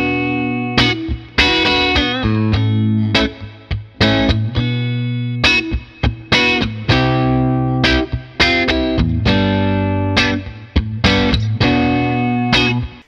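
Electric guitar played through a Bad Cat Jet Black amplifier, picked with a moderately driven tone, ringing chords and single notes in an uneven rhythm, close and loud with no talking.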